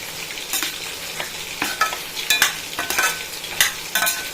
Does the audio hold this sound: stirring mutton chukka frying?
yes